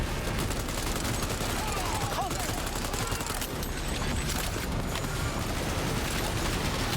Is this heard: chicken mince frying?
no